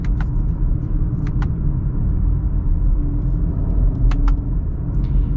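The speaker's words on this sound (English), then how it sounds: "Okay, so we're gonna get up and get our acceleration here with this." A 2023 Subaru Outback Onyx Edition with a CVT accelerating from inside the cabin, a steady low engine rumble and road drone rising smoothly, with a few faint clicks.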